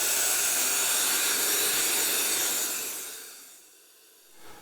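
Steam cleaner blasting steam into a bed-bug hiding spot, a loud steady broadband hiss for about three seconds that then cuts off, leaving near silence with a brief faint puff at the end.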